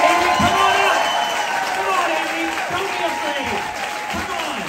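A live literary event audience claps and cheers, steady applause with scattered whoops at a moderate distance while a voice speaks over it.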